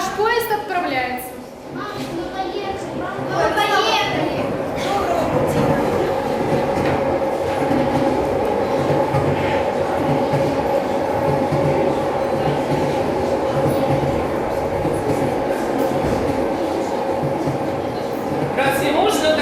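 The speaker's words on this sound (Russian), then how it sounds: "Наш поезд отправляется." A passenger train departs with the steady rumble and rhythmic clatter of the carriages, close and continuous. Voices are heard talking over the noise of the train.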